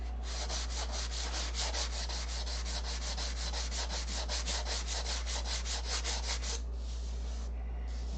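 Wood is sanded by hand with quick, even back-and-forth strokes, a rhythmic scratchy rasp repeating about four times a second up close, then slowing and fading near the end.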